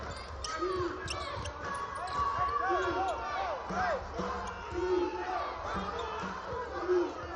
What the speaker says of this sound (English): The crowd trying to get into it, but at the same time, the nerves and tension are there.